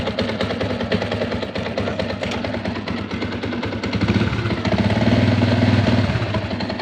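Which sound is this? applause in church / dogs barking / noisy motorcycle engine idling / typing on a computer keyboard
noisy motorcycle engine idling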